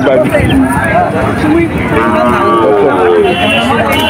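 Calves mooing repeatedly at a busy cattle market in Betaga, Bangladesh, with overlapping bellows over loud, constant crowd chatter and bargaining voices.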